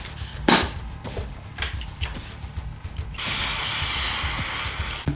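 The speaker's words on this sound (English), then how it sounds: "And now it's time for a carb cleaner." Carb cleaner sprays in a steady, close hiss onto a Suzuki RF 900 carburetor, following a few sharp clicks and handling noises from the workbench.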